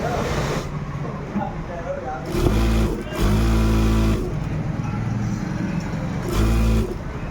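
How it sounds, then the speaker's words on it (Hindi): Sewing machine stitching a gents shirt, several bursts of steady mechanical whirring that start and stop, with someone talking over and between the runs. "आधा इंची की दबाव करते हुए सिलाई को आगे बढ़ाएंगे। सिलाई मारते हुए हम सेट की बगल की ओर चलेंगे।"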